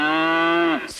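A single loud, sustained cow moo in a children's gingerbread man story, a steady low drawn-out call that dips in pitch and fades at the end, close and clear with nothing else over it.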